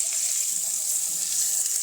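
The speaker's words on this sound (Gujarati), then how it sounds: "તેમાં આપણે અડધો વાટકો જે છાશ રાખી હતી ને બચાવીને તે ઉમેરી દઈશું." Buttermilk poured into a hot tempering in a cooking pan for Kathiyawadi dhokli curry gives a steady, close, hissing sizzle that stays even throughout, with no talking.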